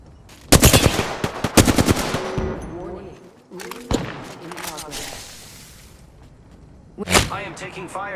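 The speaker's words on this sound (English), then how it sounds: "I am taking fire, friends." Loud machine gun bursts rattle through an Apex Legends firefight, with several rapid volleys, sharp whip-like cracks and a brief quiet gap before a final burst, heard close and mixed with game voice lines.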